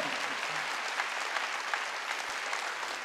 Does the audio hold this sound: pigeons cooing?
no